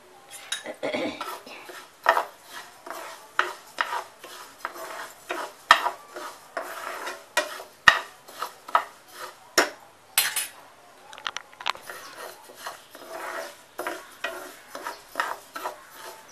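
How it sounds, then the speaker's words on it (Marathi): Pearl millet and finger millet roasting dry in a pan, stirred with a metal spoon: repeated scraping and clinking strokes in an irregular rhythm, close and clear, with a faint rustle of grains between strokes and no talking. "त्याच्यामध्ये आता बाजरी आणि नाचणी एकत्र भाजून घेते।"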